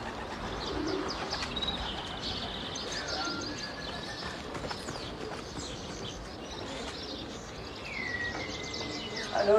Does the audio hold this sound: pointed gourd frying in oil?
no